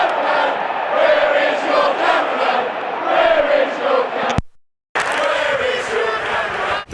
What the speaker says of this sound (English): The crowd began chanting in unison, "Where is your cameraman?"